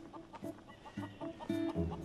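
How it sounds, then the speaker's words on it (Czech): Chickens cluck repeatedly in short, irregular bursts at close range against a quiet background, with several birds overlapping. "všude tu běhají slepice"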